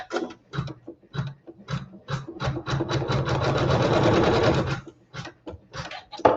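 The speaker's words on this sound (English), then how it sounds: "with that same thread we can sew our tack down" A sewing machine stitches a tack down on quilt fabric in short bursts, with one longer steady run of rapid needle chatter in the middle, close and clear with no talking.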